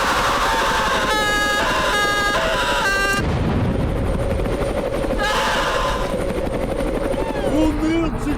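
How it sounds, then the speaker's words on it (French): A cartoon helicopter roars continuously with chopping rotor noise through an animated comedy scene, joined by bursts of tonal effects and chaotic noise, with voices talking over it. "C'est qui pilote l'hélico?"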